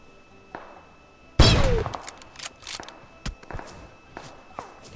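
An AWM sniper rifle fires in a mobile shooter game: one sharp, loud crack, followed by a series of smaller clicks and thuds at irregular intervals.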